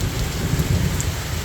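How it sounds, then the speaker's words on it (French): Heavy rain pours steadily during a thunderstorm on the Régordane route near Génolhac, a dense loud wash of falling water with low rumbling, heard from shelter with no voices. "j'attends que cet orage veuille bien passer pour que moi aussi je puisse passer"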